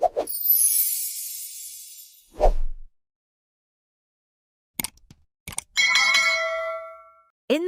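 A notification bell sound effect: a bright chime and swoosh, then a short thump, a few small clicks, and a ringing bell tone with decaying harmonics near the end, loud and alone with no talking.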